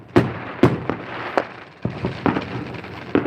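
Fireworks set off in a front yard in Las Vegas on the 4th of July, a string of sharp, loud bangs and pops at irregular intervals, some close together, with crackling between them.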